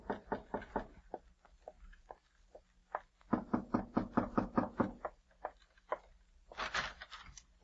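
Knocking at a front door comes in several bursts, first a few spaced raps, then a fast run of firm knocks, followed by a brief scuffle in a radio drama scene.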